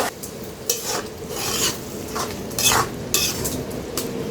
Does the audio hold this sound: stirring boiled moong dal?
yes